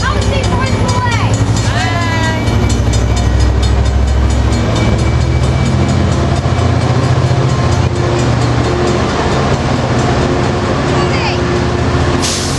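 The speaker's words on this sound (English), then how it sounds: "here goes the Amtrak 573 right now" Amtrak 573 passenger train rumbles loudly past close by at San Juan Capistrano, with a heavy continuous roar and metallic squeals, and a horn-like tone early on during a quiet zone.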